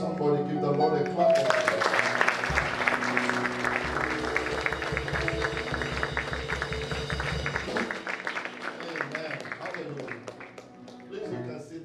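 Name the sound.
church congregation clapping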